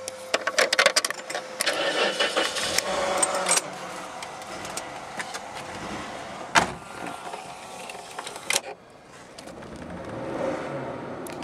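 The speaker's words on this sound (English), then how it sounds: "Go ahead and start it up for you." A 1991 Jaguar Sovereign XJ6 saloon with the 4.0 engine cranks and catches among clicks and clatter, then settles into a quiet, even idle heard close from inside the car.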